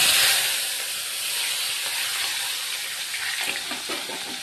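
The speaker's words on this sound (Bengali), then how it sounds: "দেখো বন্ধুরা পেঁয়াজ রসুনটা আমি ভালো করে ভেজে নিচ্ছি" Onion and garlic frying in a pan with cumin seeds, a steady broadband sizzle that holds close and fairly loud throughout, with faint crackles and no talking.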